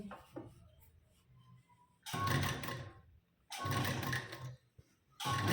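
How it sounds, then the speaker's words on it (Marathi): A sewing machine stitches a blouse sleeve seam with a half-inch margin, running in three loud rattling bursts of about a second each. Quiet pauses with faint handling noises separate the bursts. "सेंटर ठेवून शिलाई देऊन घेते"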